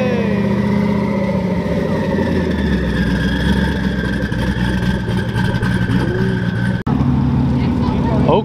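Engines of arriving cars roll in at a muscle car meet, among them a Shelby GT500 track pack on carbon wheels, with a steady mid-pitched rumble and revving that runs throughout while people talk over it nearby.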